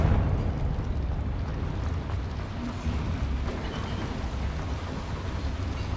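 Confringo fire spell explosion in the video game Hogwarts Legacy: a dense, sustained roaring rumble of blast and fire that stays loud and steady for several seconds, with no voices over it.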